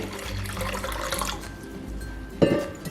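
Water runs and splashes briefly into a vessel, a short pour with a sharper splash near the end; no one speaks.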